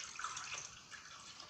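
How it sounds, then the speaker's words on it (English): Cold tap water pours steadily into a rice cooker pot over a corned beef brisket, a continuous close splashing hiss with no talk. "Take some cold water and just pour it in to cover the meat."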